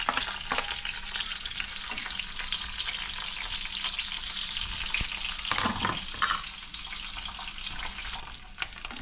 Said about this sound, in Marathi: थोडीशी ना लसूण हे करून घेऊया परतून घेऊया